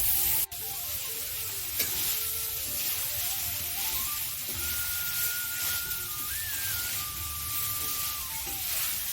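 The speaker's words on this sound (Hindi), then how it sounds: "कोशिश कीजिए स्लो आंच में भूनना चिकन को।" Chicken sautéing slowly over low heat for a village-style desi chicken curry, giving a steady soft sizzle with occasional stirring scrapes; faint birdsong-like whistles drift in the background, and no one speaks.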